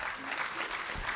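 Audience applause at a State of the Port event in Corpus Christi, a steady dense patter of many hands clapping throughout, moderately loud and continuous.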